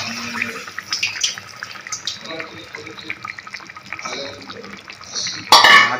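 Water runs and splashes into a cooking pot for dum aloo, with pot and utensil clatter mixed in and a sharper metallic knock near the end.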